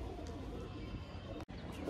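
Pigeons cooing close by in a short burst, low murmuring coos over a steady outdoor background, broken by a brief dropout.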